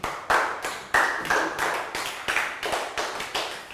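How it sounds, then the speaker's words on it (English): A small class of children clapping for a student, a rhythmic series of about a dozen distinct, close claps in a steady beat, no talking. "round of applause for Dan"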